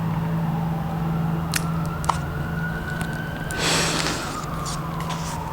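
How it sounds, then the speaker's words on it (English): A siren wails in the distance, a steady rising-and-falling tone over a low hum, with a burst of rushing noise partway through. "I don't know if you can hear that siren"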